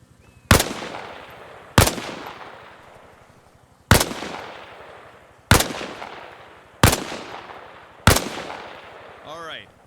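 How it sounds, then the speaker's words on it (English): A rifle in Arma Reforger fires six evenly spaced single shots from behind a wall during a boot camp drill. Each crack is loud and close, with a short echoing decay before the next shot. "Position yourself behind the wall and lean out while firing."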